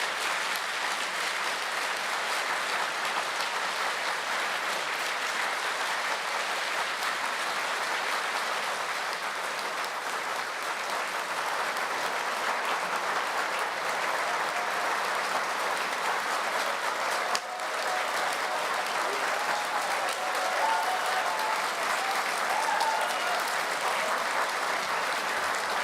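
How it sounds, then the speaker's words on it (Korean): A church congregation at a Korean Easter union service applauds the president's entrance with long, sustained clapping from a large crowd, steady and even throughout at a moderate distance. "윤석열 대통령님께서 나오실 때 큰 박수로 환영해 주시겠습니다."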